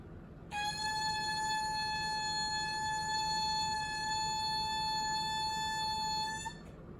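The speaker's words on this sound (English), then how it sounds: "It'll sound like this on your reed." An oboe reed blown on its own gives a single steady, thin buzzing tone that sustains for about six seconds over faint background hiss, with no talking.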